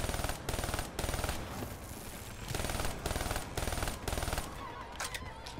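Black Ops 3 gunfire comes in loud, rapid automatic bursts, about five strings of shots separated by short pauses, with a shot or two near the end.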